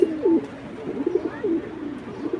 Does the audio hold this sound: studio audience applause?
no